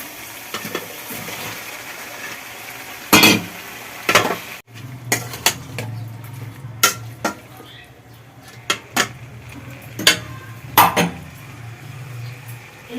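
Fried potatoes and soybean chunks tipped into a pan of fried capsicum and onion for soybean do pyaza, giving a few sharp metal clinks and scrapes of a spoon against the pan over a low steady sizzle, with no talking.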